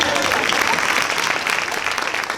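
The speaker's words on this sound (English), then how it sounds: "you can give a little bit more of a round of applause" Audience applause fills a room at an awards banquet, a dense, steady wash of many hands clapping at once, loud and sustained with faint crowd murmur beneath.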